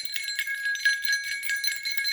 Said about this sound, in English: I'm going to use my witch bells.